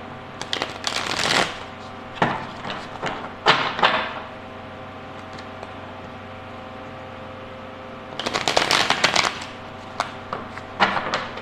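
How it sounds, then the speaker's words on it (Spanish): A tarot deck is shuffled by hand in a quiet room over a low steady hum, with several short bursts of riffling cards separated by pauses. "Vamos a barajar nuestro tarot cósmico."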